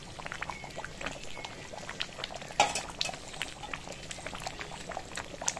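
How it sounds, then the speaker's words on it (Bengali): Mutton curry with potato and papaya simmering in a pot, a steady soft bubbling and sizzling with scattered small clinks, moderately close and fairly quiet. "দেখুন আমি 5 মিনিট ফুটিয়ে নিলাম।"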